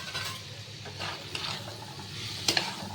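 Boiled chickpeas and peas being stirred in a frying pan over low to medium heat, a soft scraping and faint sizzle under a steady hiss, with a sharper clink near the end.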